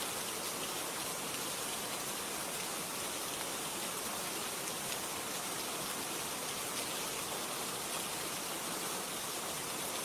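Steady, dense rainfall, a continuous even hiss of pelting rain on surfaces with no pauses or voices, constant in loudness throughout.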